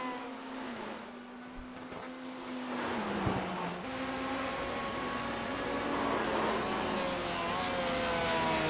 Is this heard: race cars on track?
yes